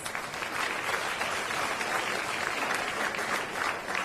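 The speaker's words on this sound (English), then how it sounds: "Let's show our appreciation by giving them a round of applause." An audience at a live State of the City address applauds steadily, a dense, even wash of clapping that holds without a break for a few seconds.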